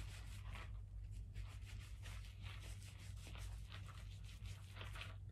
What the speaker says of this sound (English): Then gently rub this one in. It's like rubbing the air out of the wool.